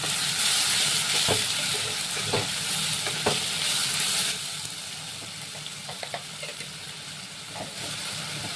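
Tomato paste fries in hot oil with a loud, steady sizzle that drops to a softer hiss midway, broken by occasional spoon scrapes and taps against the pan, close up and without voices.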